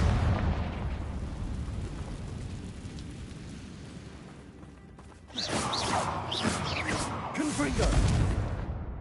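Confringo blasting spell going off in Hogwarts Legacy gameplay, a rumbling roar that eases off, then a sudden louder burst of crashing, crackling impacts over the last few seconds, with a voice speaking in game.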